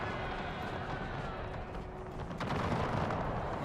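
12-pounder cannons firing in a Franco-Prussian War 1870 battle game, a dense rumble of distant booms and battle noise that swells louder toward the end, without talk.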